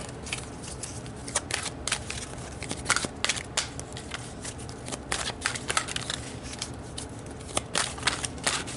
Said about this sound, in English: let's pull a card to get more information about that